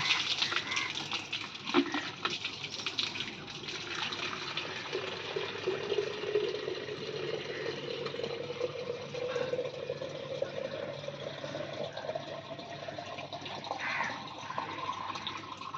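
Fresh water is poured into a container for washing on a new farm, a soft continuous gushing and trickling fill that runs steadily at moderate distance with no one speaking.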